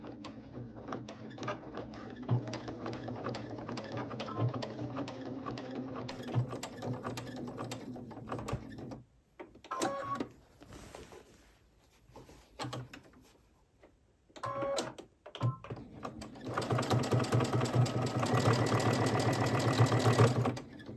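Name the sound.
sewing machine stitching a crib sheet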